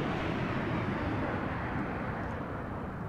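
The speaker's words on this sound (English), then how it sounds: "That was a jet, wasn't it?" A fast jet streaks overhead in the ARMA video game, a loud, steady broadband roar that fades slightly as it passes, with no voices.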